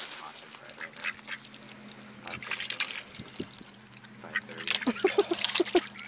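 Ducks quack in scattered bursts nearby, growing busier toward the end, with a low steady hum and some faint voices mixed in.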